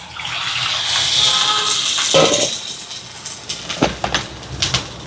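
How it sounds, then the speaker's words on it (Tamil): Water pours into a cooking pot during home cooking of a curry with ambarella fruit, a continuous splashing gush that builds, then gives way to a few scattered clinks and splashes. "இப்போ தண்ணி கொஞ்சம் சேர்க்குறேன்."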